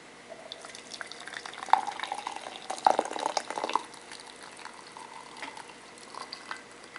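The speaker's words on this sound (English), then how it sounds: "go ahead and add the water." Water pours and splashes gently into a cup for tea with a small hanging infuser, soft trickles and a few brighter drips and clinks over quiet room tone.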